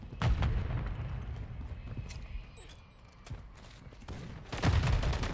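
A Semtex grenade goes off amid gunfire in Call of Duty MW3: heavy booming blasts near the start and again near the end, with scattered shots and rattling effects between.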